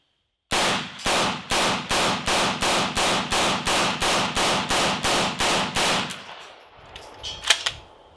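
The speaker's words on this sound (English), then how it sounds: "get it in the gun and see if we run through all the rounds without any problems." An MP5 fed from a KCI magazine fires about fifteen sharp, evenly spaced shots in a steady semi-auto rhythm, loud and close, then falls to quieter clatter and handling noise at the end.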